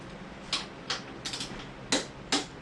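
A wrench ratchets up a motorcycle shock bolt on a 2016 Harley-Davidson Street Glide, tightening it to torque: five short, close clicking bursts in an uneven rhythm against a quiet background.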